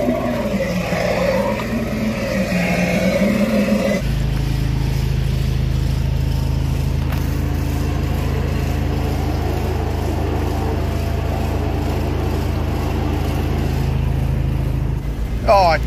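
A drain jetter engine blasts high-pressure water into a grease trap, a loud, steady mechanical drone close by after someone talks briefly at the start.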